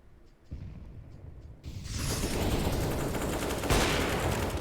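Gunfire in a competitive video game match: a couple of faint mechanical clicks, then loud continuous shooting and rattling that fills the rest, with a sharp burst near the end.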